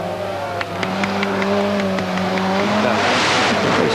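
A rally car from the 1986 Monte Carlo Rally drives along a snowy road, its engine note droning steadily and rising as it passes close by, with a loud rushing finish as it sweeps near.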